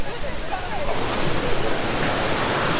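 A waterfall near Luang Prabang, Laos, gives a steady, loud, broad rushing roar that fills the space, with slight gusts of wind over it.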